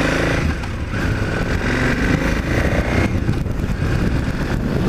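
A KTM 990 Adventure motorcycle engine runs loud and close, its steady growl holding under a constant rush of wind noise with no talking.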